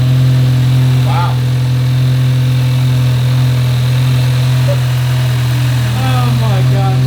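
A BMW M550 with an E50 engine converted with a big turbo runs steadily nearby, a loud, constant low drone with faint higher whines over it, while people talk in the background.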